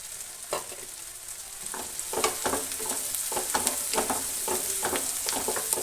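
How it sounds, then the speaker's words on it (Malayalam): Curry leaves hit hot frying oil and sizzle steadily up close, with a bright hiss under repeated clinks and scrapes of a spoon stirring the pan. "നമ്മൾ ഈ പൊരിച്ച എണ്ണയിലേക്ക് തന്നെ ഇട്ട് കൊടുക്കുക കറിവേപ്പില ഇട്ട് കൊടുക്കുന്നുണ്ട്"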